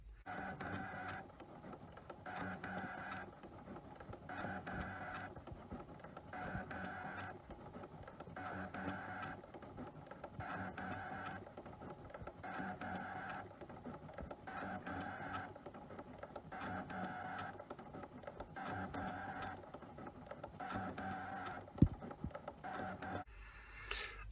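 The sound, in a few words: cutting machine cutting out plastic sheet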